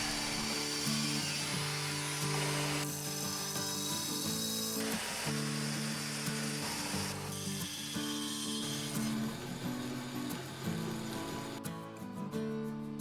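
A power tool cuts a steel receiver tube blank, a loud continuous grinding whine with harsh high-pitched tones that shift and change in bursts over several seconds, with no talking.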